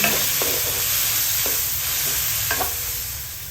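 Kangkong and mushrooms with soy sauce and black pepper being stirred in a pan for adobong kangkong, with repeated scraping strokes over a steady, close sizzle.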